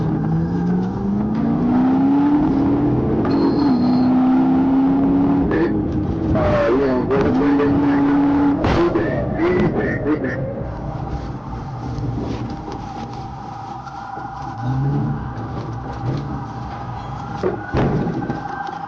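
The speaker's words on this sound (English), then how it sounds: "A decisive pit maneuver spun the SUV 180 degrees, allowing officers to move in fast, surrounding the vehicle" Police vehicles chasing and PIT-maneuvering a fleeing SUV during a high-speed pursuit: engines rev and whine upward, tires screech and thump as the SUV spins, then engine noise settles under a long siren-like tone.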